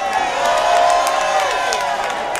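A crowd cheers, whoops and claps for Roxanne Shante at a South Philly community appreciation event, a steady dense roar of voices and applause filling the space at full volume.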